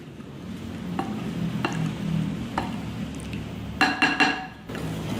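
Spoon stirring a coconut water and fish sauce mixture in a pot, with soft swishing and several light clinks of metal against the pot, the clinks clustering in quick succession toward the end.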